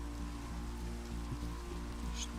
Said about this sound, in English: The rain should stop soon.